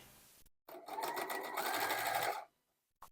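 A sewing machine stitching long quilted table runner strips runs in one fast, loud, even burst of rapid needle clatter for about two seconds, starting and stopping abruptly with a brief click at the end.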